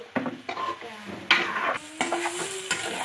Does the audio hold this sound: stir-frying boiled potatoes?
yes